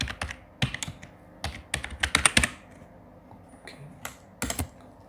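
Computer keyboard typing a layer name in Photoshop: quick bursts of close, crisp key clicks, a fast cluster in the middle and a few scattered taps before and after.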